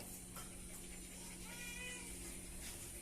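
A tomcat gives a few soft, fairly close meows while being fed, set against a quiet background hum.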